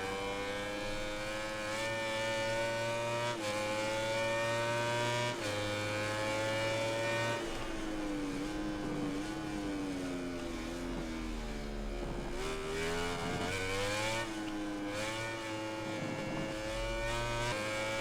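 A motorcycle engine in MotoGP 19 career mode races continuously, its pitch climbing and dropping sharply through gear shifts and corners, loud and close with no talk over it.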